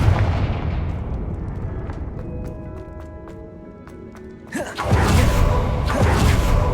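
A Confringo blast spell from Hogwarts Legacy bursts with a sharp whoosh and a heavy booming explosion, followed by sustained loud rumbling debris, after a stretch of quieter game ambience with chiming tones.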